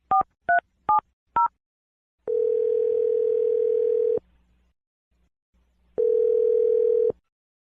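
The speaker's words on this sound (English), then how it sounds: "I'm gonna dial the phone number right now." Four quick touch-tone dialing beeps give way to a telephone ringback tone, two long steady rings about two seconds each separated by a silent gap, clear and close on the line with no talking.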